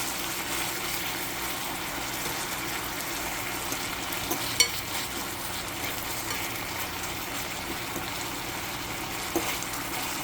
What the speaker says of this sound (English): Maybe I should just let it simmer in its juices to cook better.